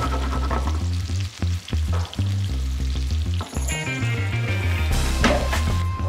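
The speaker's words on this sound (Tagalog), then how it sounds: "prituhin na natin ating carrots at saka patatas" Carrots and potatoes frying for kaldereta sizzle loudly in hot oil, with repeated stirring clatters of a utensil against the pan throughout.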